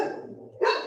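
A dog gives two quick barks, the second sharper and louder, heard close and alone.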